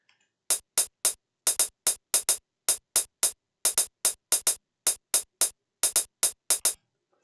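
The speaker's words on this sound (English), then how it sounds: "if we just play the hi-hats, they sound like" A dubstep hi-hat pattern programmed in FL Studio ticks out as crisp, bright closed-hat hits in a steady syncopated rhythm of single and paired strikes, played alone with clean silence between them.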